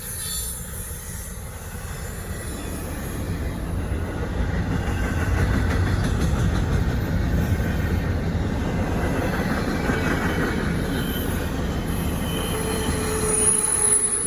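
A Norfolk Southern freight train of spine cars rolls steadily past just before a snowstorm, wheels squealing in high metallic whines over a continuous rumbling roar that builds and holds loud throughout.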